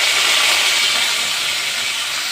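Curry leaves and coriander dropped into hot oil set off a loud, close, rushing hiss that stays strong and slowly eases over a couple of seconds, with no voices.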